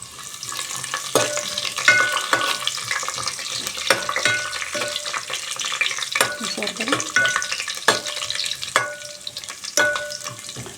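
Almonds fry in a pan until browning, ahead of making carrot halwa with milk: a continuous close sizzle punctuated by repeated sharp clinks and scrapes of a spoon against the pan, with no talk.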